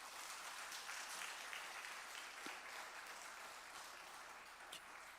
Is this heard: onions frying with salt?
no